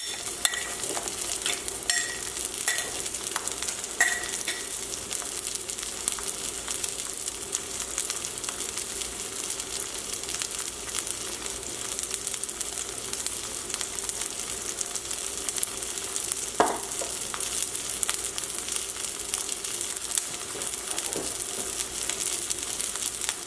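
Cod fillets frying in a pan over a low to medium flame give a steady, close sizzle throughout, with a few brief clinks and stirring noises on top and no talking.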